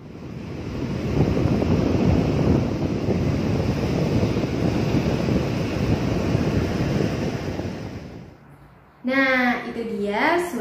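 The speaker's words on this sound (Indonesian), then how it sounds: "Itu dia suara ombak." Ocean waves wash and surge in a continuous loud roar with wind noise for about eight seconds, then fade, and a voice begins speaking.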